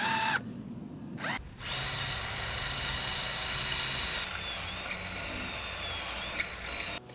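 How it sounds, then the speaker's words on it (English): A power drill whines steadily at high speed through metal tower sidewall, briefly stopping and restarting, then grinds on with sharp squeals as the bit bites through. "So when I'm drilling through, when I get through the first sidewall"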